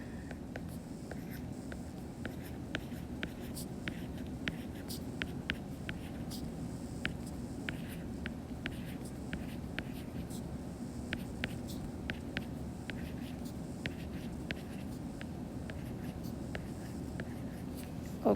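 Pen or pencil writing an algebra equation on notes: faint, irregular scratchy strokes and taps over a steady low room hum, close and quiet, with no talk.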